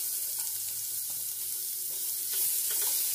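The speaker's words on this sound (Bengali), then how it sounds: "এবার পেঁয়াজ কুচিকেও নেড়ে চেড়ে হালকা করে ভেজে নেব" Chopped onion sizzles in a pan with garlic and ginger while a utensil stirs it, giving a steady close-up hiss broken by soft scraping strokes.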